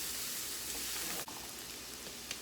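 Butter sizzling in a pan with translucent cooked vegetables makes a soft, continuous frying hiss with small crackles, fairly faint and even throughout.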